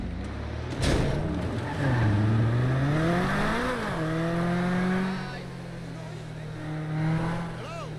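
Cars, one a Porsche, pass through GTA 5 Legacy street traffic with the 5REAL Traffic mod, engines rising and falling in pitch as they rev and sweep by, with a brief sharp knock early on.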